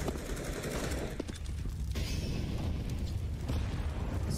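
Gunfire crackles in a Counter-Strike: Global Offensive match, a dense continuous wash of shots and bursts with steady loudness and no pauses.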